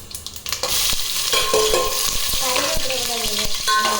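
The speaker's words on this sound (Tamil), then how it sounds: "லைட்டாக பொரிஞ்ச உடனே வெங்காயம் போட்டுடுறோம்." Sliced onions sizzling in hot oil in a pan for biryani, stirred with a spoon: loud continuous frying hiss with scraping and clinks of the utensil against the pan, close up, no speech.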